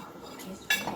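Dishes and cutlery clink during washing up in a kitchen sink: soft scraping, then one bright metallic clink near the end.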